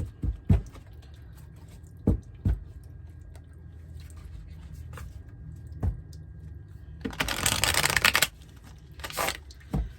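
Tarot cards handled and shuffled: scattered soft taps and slides, then a dense, close riffling burst about a second long, followed by a few more light card sounds, with no talking.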